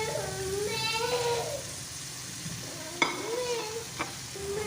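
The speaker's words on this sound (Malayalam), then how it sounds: "നാം കട്ട് ചെയ്ത ക്യാരറ്റ് ഇതിലേക്ക് ഇട്ട് കൊടുക്കാം. ഒന്ന് വഴറ്റാം." Cut carrots sautéing in a pan, a continuous sizzle with spatula scrapes and a couple of sharp clinks, while a voice talks over the frying.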